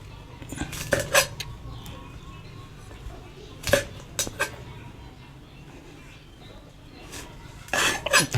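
Several sharp, knocking impacts with a clattering edge as peanuts are pounded in a mortar, arriving in short irregular clusters separated by quieter stretches of low rustling.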